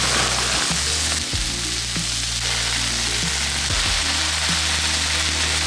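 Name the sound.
black beans and green beans frying in a pan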